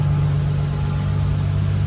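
A Nissan 350Z engine idles steadily while its coolant system is bled of air, a loud, constant low hum and drone held without change and with no talking.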